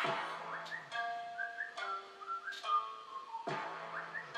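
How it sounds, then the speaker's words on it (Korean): A whistled melody from a hip-hop group track, with clear sustained whistled notes sliding between pitches over a light beat, plainly audible and without talk. "이 메인 멜로디 중에 휘파람 부는 소리 있잖아요"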